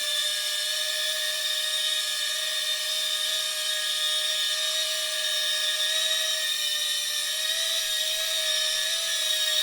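A small radio-controlled drone hovers nearby, giving off a steady, loud, high-pitched electric whine that holds almost unchanged throughout.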